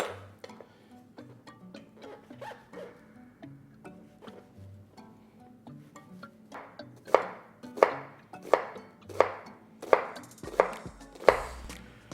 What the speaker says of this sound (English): So I've got a large onion. I'm gonna be dicing this really fine.